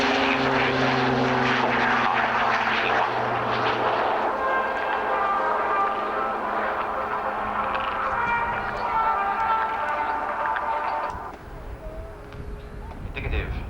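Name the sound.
propeller transport aircraft flying at an airshow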